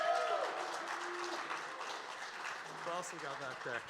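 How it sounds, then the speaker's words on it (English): A closing-ceremony crowd at a hackathon event breaks into steady, sustained applause, a dense wash of clapping that carries through the whole stretch, with a voice talking over the clapping near the end. "So give Casey a round of applause"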